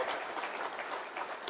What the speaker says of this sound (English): give these pioneer senators, governors, and members of County Assembly a hearty round of applause